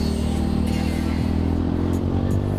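A Honda Beat FI scooter fitted with TDR 10 gram rollers hums at a steady, close engine drone with a light throttle blip on a hill, with no talking.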